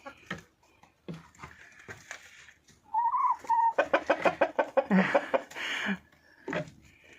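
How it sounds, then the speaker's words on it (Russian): A red hen clucks on a frosty winter day in Sloviansk, with a close burst of rapid, repeated clucks in the middle and softer fowl sounds scattered before and after. "Что за рыжая курочка новая бегает, а?"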